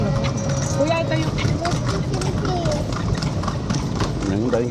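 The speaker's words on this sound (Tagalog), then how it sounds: "Ang daming kabayo." Several horses clip-clop along a city street in Vigan, a steady rhythmic patter of hooves close by, with people chatting over it and traffic noise in the background.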